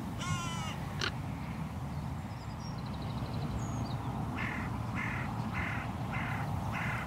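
Several crows caw from a distance in open countryside, starting with a harsh call and then a run of five evenly spaced caws toward the end, over a steady wind-like background hiss.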